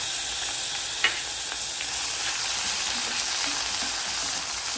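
Chopped ginger and garlic, added after cumin seeds, curry leaves and green chilli, sizzle steadily in hot oil in a pan for a chicken dry roast, a close, continuous frying hiss with a few faint stirring scrapes.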